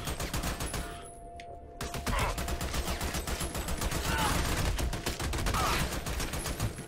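Rapid automatic gunfire in the video game Army of Two, a dense, steady stream of shots that briefly drops out near the start, then resumes loud and continuous.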